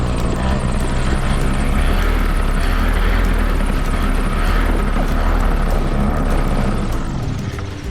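A paramotor engine roars loud and close throughout a takeoff attempt, a steady buzzing propeller drone with strong low rumble and wind that barely changes across the run.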